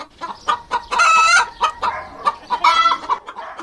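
Chickens cluck close by in a rapid, uneven series of loud calls, including a couple of longer drawn-out squawks. They are heard in a Bangladeshi household setting.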